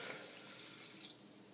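Chicken stock is poured into a pan, giving a soft, continuous liquid trickle and splash that stays fairly faint and steady throughout, with no talking.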